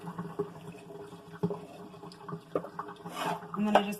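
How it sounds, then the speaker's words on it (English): Hot water drains from a pan of boiled eggs, a running, splashing pour with light clatters from the pan, heard up close at moderate volume. "I drain off as much water as I can"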